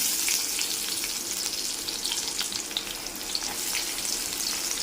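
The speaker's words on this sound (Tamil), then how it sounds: "அடுத்தது நம்ம வெட்டி வச்சுருக்கோம்ல சின்ன வெங்காயம், அதை போட்டு வதக்கிக்கலாம்" Small shallots fry in oil with cumin seeds for an okra masala curry, giving a continuous hissing sizzle at moderate volume with faint stirring taps and no voices.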